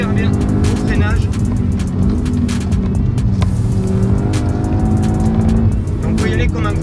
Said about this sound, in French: La voiture se place super bien au freinage.